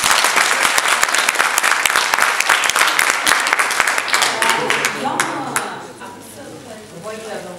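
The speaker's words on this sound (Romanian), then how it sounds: "Haideți să o aplaudăm." Audience applause at a BookLand Evolution book conference in Sibiu, a dense, loud wave of many hands clapping that thins out and fades after about five seconds, with a few scattered claps and voices lingering at the end.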